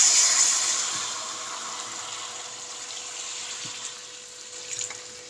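Water pours into a cooking pot of jackfruit and potato curry, a soft splashing gush strongest at the start and tapering into a faint trickle, close by with no talk.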